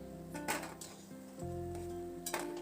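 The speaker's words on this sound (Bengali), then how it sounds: "এইভাবে তেল থেকে ছেঁকে ছেঁকে আমি বড়াগুলোকে তুলে নিলাম" A few metal clinks and scrapes of a ladle against a pan as mung dal fritters are lifted out of hot oil, over a low background hum, fairly quiet.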